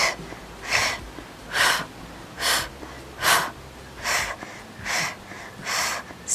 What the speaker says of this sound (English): you can speed it up and staccato breathe